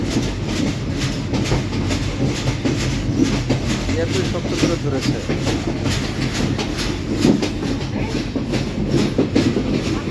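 A train rumbles steadily along the rails with rhythmic clickety-clack, heard from on board, while someone speaks briefly over the noise.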